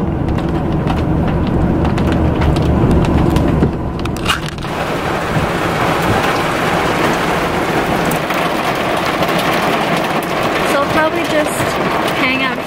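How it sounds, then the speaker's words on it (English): Rain starting to fall around a parked van by a lake, a dense steady patter on the surface with scattered crackling drops, loud and continuous, with a heavier rumble in the opening seconds. "it's starting to rain"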